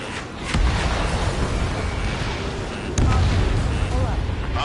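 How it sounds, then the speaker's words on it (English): Jet-fighter missile launches in the Ace Combat game, two loud whooshing bursts over a constant roaring engine drone, with radio chatter faintly mixed in. "Strider 3, launching missile."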